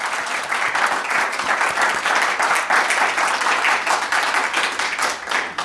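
An open-mic audience applauds, with dense, steady clapping from a crowd that stays loud and close, rising slightly in the middle before tapering off near the end.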